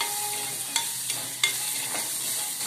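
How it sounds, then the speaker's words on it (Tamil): Crushed ginger, green chilli and garlic sautéing in a pan, a steady soft sizzle with a few sharp spatula scrapes and stirs, close and alone. "இஞ்சி பச்சை மிளகாய் பூண்டு இடித்து போட்டு வதக்கிட்டாங்க."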